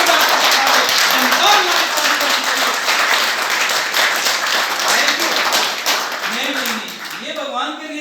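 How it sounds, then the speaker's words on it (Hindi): An audience claps vigorously and continuously at a spiritual gathering, loud dense applause that thins toward the end as a voice begins speaking over it. "वो ताली सिर्फ अपने लिए और परम पिता परमात्मा के लिए जोरदार"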